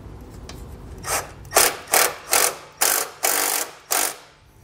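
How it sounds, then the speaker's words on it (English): A ratchet on a 10mm socket cranks a bolt back through a ring terminal on a 2015 GMC during diode wiring kit installation, giving seven close, rhythmic rasping strokes that grow more regular. "We're going to take that bolt, push it through our ring terminal, and then re-secure it."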